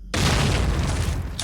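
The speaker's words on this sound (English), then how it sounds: "the grenades in this game are like World War I style grenades" A World War I style grenade exploding in the video game Jurassic: The Hunted, a single loud, close boom that starts abruptly and rumbles heavily for over a second.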